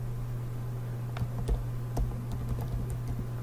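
A password is typed on a computer keyboard: a quick, uneven run of a dozen or so soft, close key clicks over a steady low electrical hum.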